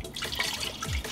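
Cold water from the fridge splashes out in a brief, close pour as it is weighed for pizza dough, a short liquid trickle standing alone.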